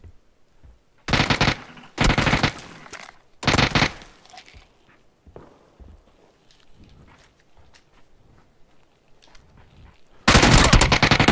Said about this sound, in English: shooting under the building.